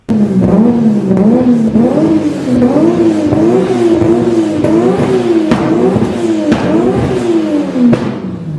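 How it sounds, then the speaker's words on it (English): A Nissan RB26 twin-turbo straight-six engine revs hard and close, pitch rising and falling through repeated gear changes with a throaty, whooshing turbo character. "That twin-turbo straight 6 that sounds like this."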